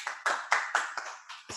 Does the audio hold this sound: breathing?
no